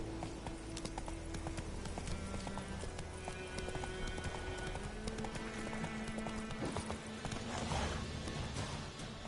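Steady clip-clop of a galloping horse in The Witcher 3 on PS4 Pro, with game music and effects layered over it, continuous and fairly loud throughout.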